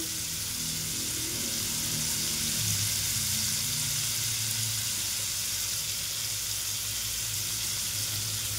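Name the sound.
frying prawns with salt and turmeric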